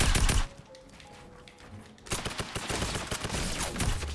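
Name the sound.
tactical assault rifle firing in video game Fortnite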